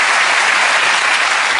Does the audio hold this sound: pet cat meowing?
no